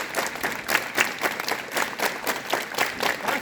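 Students at a school assembly clap together in quick rhythmic bursts, a crowd of hands beating roughly in unison at a moderate level with no talking over it.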